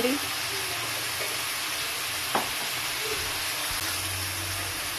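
Minced qeema with spices sizzles steadily in a hot pan for a karela dish, a constant close hiss with a brief utensil clink partway through.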